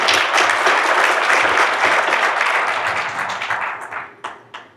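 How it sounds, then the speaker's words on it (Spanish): Audience at an urban mobility seminar applauding a panel speaker, a loud dense burst of clapping that gradually thins out to a few final scattered claps. "Les pido un aplauso para él, por favor."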